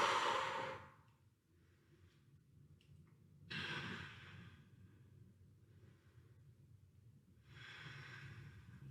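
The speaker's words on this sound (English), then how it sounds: "Deep breathing." Deep breathing during a slides workout: a few slow, audible exhales spaced several seconds apart, soft and close, with no talking.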